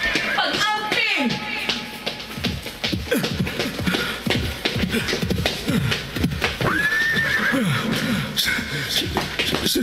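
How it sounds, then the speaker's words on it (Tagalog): A horse whinnies loudly and close, with a long shrill neigh near the start and another later, amid shuffling hoof clops and scattered movement. "Tingog ka to sa kabayo."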